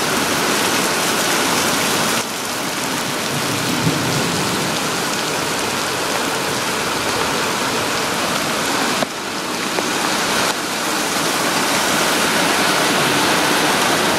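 Heavy rain sends floodwater rushing loudly through a Tucson desert wash. A dense, continuous roar of rain and flowing water fills the scene, with a brief dip partway through, and nobody speaks.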